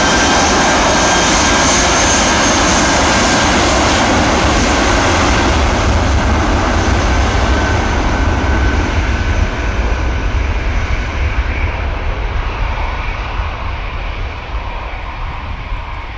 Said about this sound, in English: We get a nice whine from the IAEs, didn't it?